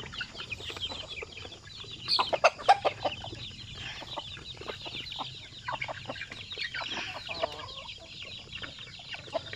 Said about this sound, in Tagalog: Mga 60 plus yung nandito na sisiw yan